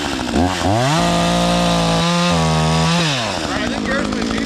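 Chainsaw cutting through wood on a rainy day, loud and close, the engine revving up then holding a steady high whine under load before dropping back, with brief speech around it.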